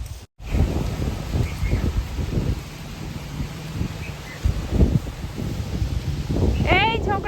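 Morning wind blows outdoors in a steady, rushing broadband roar with gusty swells, heard under people talking nearby throughout.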